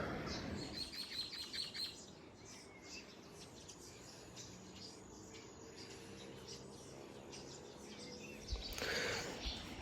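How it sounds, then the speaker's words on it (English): Sparrows chirping in a village garden on a morning in Afghanistan: faint, scattered tweets over a quiet outdoor hush, with a louder burst of nearby sound at the start and near the end. "Waking up to this beautiful morning, to the sound of sparrows"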